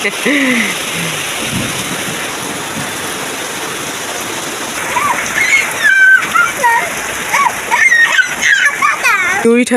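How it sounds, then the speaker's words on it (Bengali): Rain falls steadily on a village courtyard, with drums and buckets set out to catch the water. It makes a constant close hiss and splatter, and voices and other household sounds rise over it in the second half. "বৃষ্টি শুরু হয়ে গেছে"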